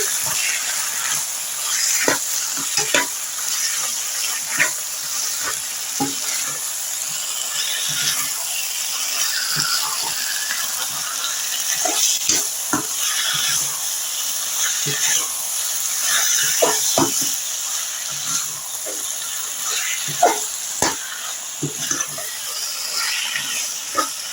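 Chicken manchurian stir-fried with coriander hisses loudly and steadily in the pan, punctuated by frequent sharp clicks and scrapes from stirring throughout.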